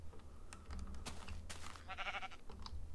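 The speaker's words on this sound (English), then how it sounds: "Is that a pink sheep?" A pink sheep in the Minecraft video game bleats a few times, faint and close, its wavering cry standing alone beside sparse clicks of game activity.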